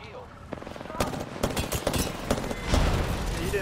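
Gunfire in the Apex Legends video game, rapid automatic bursts of shots crackling in quick succession, loud and close, mixed with other sharp impacts.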